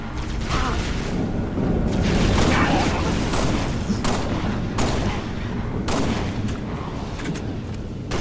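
Dense, continuous gunfire and explosions fill a battle in Halo: Reach, loud and relentless, with sharp bursts punching through a constant roar of combat.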